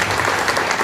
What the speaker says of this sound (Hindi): इसके लिए तो एक बार सबके लिए ताली बनती है।